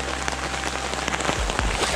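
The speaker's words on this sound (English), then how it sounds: "While it's raining and dark, it's no bueno." Steady rain pours down at a dark elk hunting camp, a dense continuous hiss of drops pattering on surfaces close by, with heavier splashes near the end and no talking.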